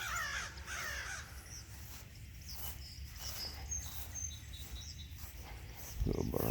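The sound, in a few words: small bird, crow-like cawing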